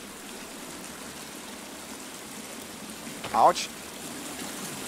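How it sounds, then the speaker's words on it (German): A waterfall in the survival video game The Forest rushes as a steady, even wash of water noise throughout. A voice briefly exclaims partway through. "der Wasserfall wird zum Glück immer leiser"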